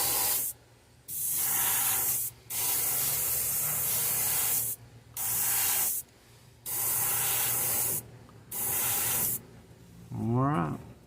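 Airbrush spraying paint onto a largemouth bass lure, a steady close hiss in about five long bursts separated by short pauses.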